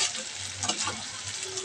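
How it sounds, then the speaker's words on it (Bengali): Okra strips fry dry in a pan with a soft, low sizzle and a faint stir, quiet and brief, with no talking. "এখানে ভেন্ডি ভাজা করছি।"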